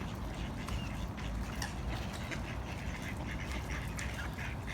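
Ducks quack near the water, several overlapping calls spread through a steady outdoor background hiss, moderately close, with no talk.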